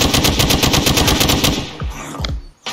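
Automatic weapon fire from one of the Lunars weapons in the video game Unturned, a loud rapid burst of evenly spaced shots for about a second and a half, then a few trailing, fading reports.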